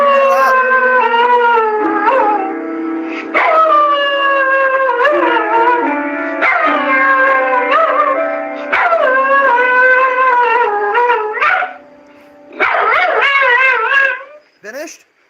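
A dog howls in long, wavering, rising and falling tones that are loud and close, with a few short breaks between howls and a final brief yip-like burst near the end.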